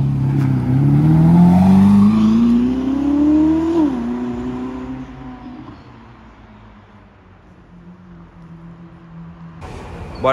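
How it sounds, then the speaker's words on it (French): A Ferrari SF90 Spider pulls away on a Paris street, its engine rising in a loud, climbing rev before fading steadily into the distance. "Bon alors, du coup regardez la SF qui s'en va."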